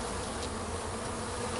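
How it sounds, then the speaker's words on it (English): A dense, steady drone of many bees buzzing close at a hive, with robber bees swarming around the entrance, continuous and loud with no talk. "pollen-laden hind legs of these bees"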